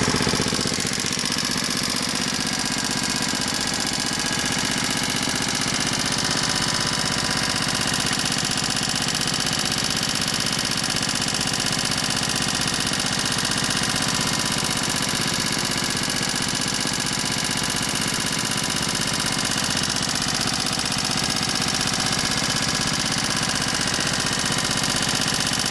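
Small engine with its carburetor bolt removed, running on hydrogen from a 24-volt water electrolysis generator with a bubbler, holding a steady, even, noisy idle throughout with no one talking.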